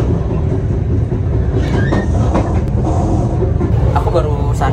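Inside a KA Serayu passenger train, a steady low rumble and rattle of the carriage runs continuously, with occasional clicks and knocks from the rails over the constant hum.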